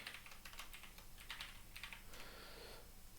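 Soft, faint computer-keyboard typing runs at a steady pace through a few seconds of quiet room tone, with no one speaking.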